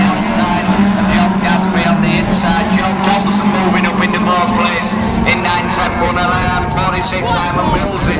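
Autograss race cars at a national meeting roar past on a dirt track, a loud, continuous engine drone, with a commentator talking over the noise the whole time.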